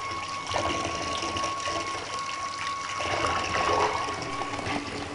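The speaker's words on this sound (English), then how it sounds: "we're going to place it under some running water" Bath tap running water over a Lush bubble bar crumbled beneath it, a steady broadband splash and gush filling the clip, near and moderately loud, with no talking.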